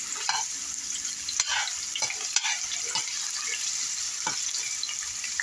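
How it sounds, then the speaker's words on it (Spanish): Onion frying in a pan for entomatadas, a steady close sizzle with occasional stirring clicks and scrapes throughout, no talking. "Y aquí es donde vamos a agregar la cebolla para que suelte todo el sabor la cebolla"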